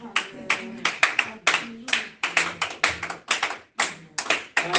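A church congregation claps in a strong, fairly regular rhythm, sharp close handclaps repeating steadily with brief gaps, loud and lively, with faint voices mixed in.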